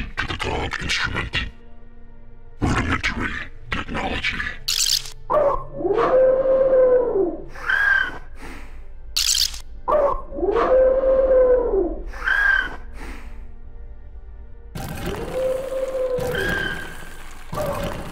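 A dog-instrument howl from the video game Stasis: Bone Totem plays as repeated rising and falling canine howls and whines, loud and close, broken by short clicks and bursts of game effects.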